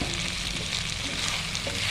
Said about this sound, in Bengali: ক্যাপসিকাম আর পেঁয়াজটা খুব সুন্দর করে ভাজা হয়ে গেছে, এর মধ্যে আমি দিয়ে দিলাম পনিরগুলো।